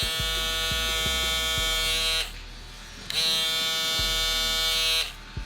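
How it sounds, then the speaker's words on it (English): BaByliss Lithium FX foil shaver runs with a steady high electric buzz, switched off briefly twice and restarted, with small handling clicks at close range. "This is how it sounds."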